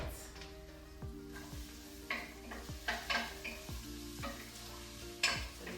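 A pot of vegan chilli cooks on the stove, a faint simmering hiss under a string of metallic spoon clinks and pot taps, spaced irregularly and fairly close.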